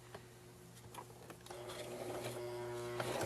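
A sewing machine stitches a blue jean denim dog toy at a slow pace, its faint motor hum and soft rapid needle clatter building steadily and running alone.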